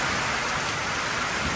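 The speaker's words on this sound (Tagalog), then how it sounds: "tapos may kasamang kulog at kidlat pa" Torrential rain roars steadily across a roof during a storm, with a low rumble of thunder blended underneath the continuous dense hiss, and no one talking.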